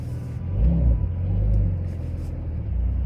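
A car creeps forward in first gear with the clutch and brake released, giving a steady low engine rumble that swells and eases slightly throughout, close and fairly loud.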